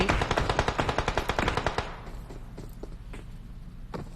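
Rapid automatic gunfire in PUBG on the Miramar map, a fast burst of about sixteen close shots over two seconds, then scattered fainter single shots.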